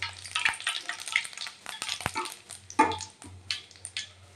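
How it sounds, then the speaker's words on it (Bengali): Cumin seeds and bay leaves sizzle and crackle in hot oil for a Bengali tempering, a steady close frying hiss with scattered pops and a few louder spits, no voices. "এই যে তেলের মধ্যে সাদা জিরে দিয়ে দিলাম ফোড়নের মধ্যে, আর তেজপাতা দিয়ে দিলাম।"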